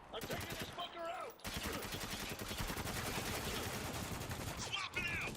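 Heavy gunfire in the war shooter Spec Ops: The Line, dense automatic bursts and rapid shots sustained for several seconds, loud and continuous, with voices shouting briefly at the start and end.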